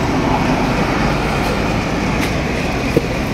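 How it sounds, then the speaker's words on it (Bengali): A passenger train halted at the station on the east side of the Jamuna Bridge in Tangail fills the air with a steady, moderately loud rumbling hum, broken by one faint knock near the end. "আমাদের ট্রেন এখানে বিরতি দিছে,"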